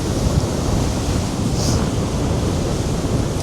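Sea waves crash in a dense, roaring wash on a very windy day, loud and continuous with wind buffeting the microphone throughout.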